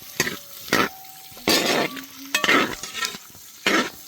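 Onion, green chili and cashews sauté lightly in hot oil, a soft sizzle broken by bursts of stirring and scraping with a spoon in the pan, with faint clinks of utensils, close and without talk.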